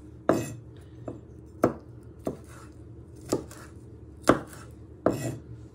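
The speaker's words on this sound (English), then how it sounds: "You want to finely slice it. into 3 or 4 pieces, and then you just want to finely chop it." Garlic cloves finely chopped with a kitchen knife on a cutting board: about seven sharp, distinct knife strikes land at an uneven pace, close and clear, with no talking.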